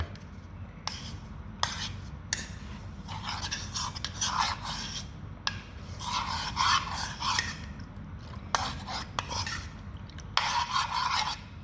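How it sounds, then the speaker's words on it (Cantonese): A spoon presses and stirs flour lumps into batter for Taiwanese-style egg pancakes, making a steady, close scraping and rasping against the bowl with repeated strokes and brief pauses. "大粒嘅你可以揾個匙羹壓一壓佢。"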